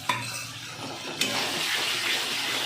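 Spice paste hits frying tomatoes for crab curry, with two sharp splashes a second apart followed by a rising, steady hiss and bubbling sizzle close by.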